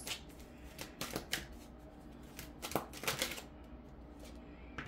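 A deck of cards being shuffled and drawn at close range for a reading, with repeated riffling bursts and flicks in uneven clusters and no talk over them.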